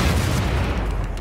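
Gunfire in Wolfenstein 2, a loud dense rumbling burst of booming shots that fills the moment and fades slightly toward its end, with no voices over it.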